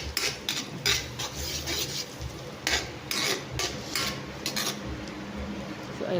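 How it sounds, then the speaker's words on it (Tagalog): Butter melts in a cooking pan before garlic and onion are sautéed for an egg dish, a steady close hiss and sizzle with scraping and clinking of a utensil against the pan throughout, no talking. "patunawin lang natin yung butter bago natin i-start mag-gisa"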